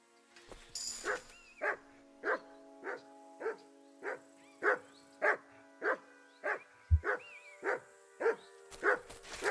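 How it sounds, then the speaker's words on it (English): A dog named Muff barks in Kingdom Come: Deliverance 2, giving a steady series of about fourteen evenly spaced single barks, clear and moderately close in a quiet scene. "Good dog, Muff."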